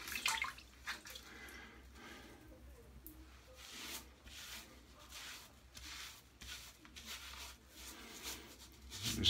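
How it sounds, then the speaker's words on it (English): Running water rinsing during a wet shave with a Unicorn razor, a faint, steady trickle and splash with soft irregular drips and surges. "let me rinse off here"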